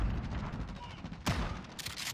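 Gunfire in a Call of Duty beta match, a rapid crackle of shots with a sharper blast near the middle and another burst at the end, under the game's background noise.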